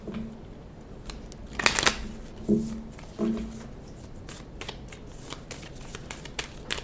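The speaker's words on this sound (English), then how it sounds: "I'm being called to pull some Romance Angel Oracle cards." Romance Angel Oracle cards are shuffled close by in a quiet room, with a few crisp riffling bursts and soft slaps between stretches of faint handling.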